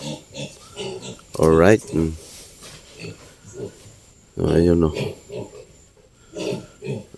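Pigs at a piggery during loading give two loud, sharp squeals that stand out above people talking throughout.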